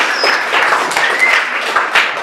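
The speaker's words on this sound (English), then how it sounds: "I want you to clap hands for yourself for coming today." An audience at an art exhibition event claps hands in a brief, lively round of applause, close and fairly loud with uneven individual claps.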